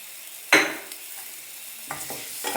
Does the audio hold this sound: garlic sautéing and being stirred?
yes